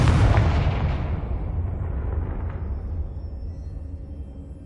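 The tail of a blasting-spell explosion in the game Hogwarts Legacy: a deep, loud boom rumbles and then slowly decays into a fading low roar over several seconds.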